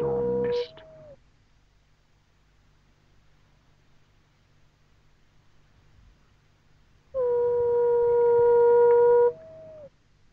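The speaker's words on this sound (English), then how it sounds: "The eerie call of the tiny, buff-spotted flufftail, seldom seen, skulking in the marshes at the river bend" A tiny buff-spotted flufftail in African bushveld marshes gives two long, eerie, steady hoots, each ending in a short lower note, separated by several seconds of near silence.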